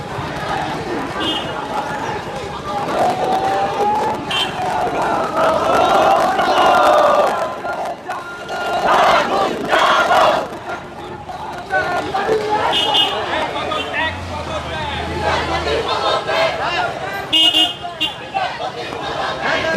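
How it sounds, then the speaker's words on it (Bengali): Student protesters at a court chant slogans demanding the Chief Justice's resignation, a loud, continuous crowd roar with rhythmic shouting, car horns sounding now and then, and voices talking over it. "তারা এখন এই মুহূর্তে প্রধান বিচারপতিকে স্লোগান দিচ্ছেন"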